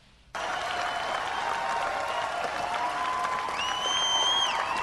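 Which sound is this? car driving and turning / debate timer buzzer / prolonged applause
prolonged applause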